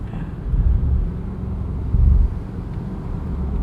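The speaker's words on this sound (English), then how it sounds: "Some great turbo noises from this 4-liter twin-turbo V8." A 2023 Bentley Continental GTC Azure's 4-liter twin-turbo V8 roars under acceleration with low rumbling surges and turbo noises, heard from inside with wind buffeting, no voices.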